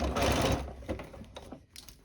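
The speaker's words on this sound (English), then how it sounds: "So I'll sew up here as far as I can go before my sewing machine foot starts to touch all of this fabric here" Fast mechanical stitching of a sewing machine with a zipper foot running through fabric for a zipped bag pocket, a loud burst followed by short, quieter runs of stitching.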